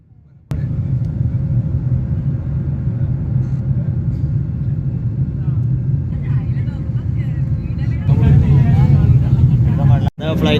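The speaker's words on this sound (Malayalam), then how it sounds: "ഫ്ലൈറ്റ് പൊന്തിയാട്ടാ" A passenger airplane climbs after takeoff on a first flight from Kannur, heard from inside the cabin as a loud, steady engine rumble and drone. The drone grows louder and rougher near the end, with faint voices underneath.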